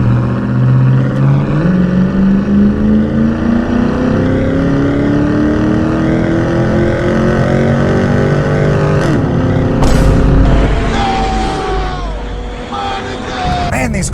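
2002 Pontiac Trans Am WS6 with a 5.7 V8 and automatic transmission, 33K miles, accelerating hard on a test drive: a loud, close engine note climbing steadily in pitch, then a shift and a renewed rise over rushing road and wind noise.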